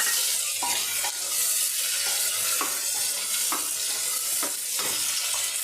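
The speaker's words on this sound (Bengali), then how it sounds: "আমি একটা টমেটোর কেটে রেখেছিলাম টমেটোরটা দিয়ে দিলাম" Tomato, chilli and onion sizzle steadily in oil in a pan, with repeated scraping stirs at a loose rhythm over the constant close frying hiss.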